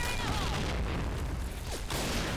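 Heavy explosions and gunfire fill an online first-person shooter match in Point Blank. The booming blasts are loud and continuous, with a dense rumbling wash and a few sharp pops layered over it.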